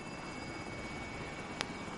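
A PS4 video game helicopter keeps up a steady, moderately loud drone with no talk over it, and a single sharp click cuts in near the end.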